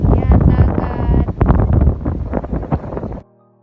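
Strong wind by the sea in Bicol buffets the microphone in loud, rumbling gusts, with faint sea and boat noise beneath, then cuts off abruptly near the end.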